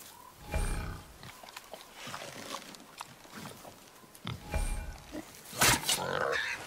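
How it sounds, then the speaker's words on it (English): A boar in God of War grunts and snorts in several rough, low bursts, with a louder squealing grunt near the end, set against a quiet outdoor background with faint voices. "our boar's hide is thick"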